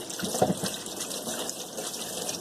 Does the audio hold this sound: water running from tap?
yes